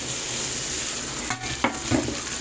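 Steady oil sizzle fills the pan, with a couple of brief stirring scrapes and a soft burst as tomato and green chili drop in near the end.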